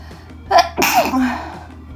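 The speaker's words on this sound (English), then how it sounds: "I'm gonna sneeze." A single loud sneeze from a woman doing makeup at home, a sharp burst with a drawn-out exhale tail, alone in a quiet room.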